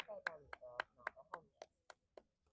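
A yoga class instructor claps his hands about nine times in a steady, evenly spaced rhythm. The claps are sharp and close, with faint voices between them and the last few fading softer.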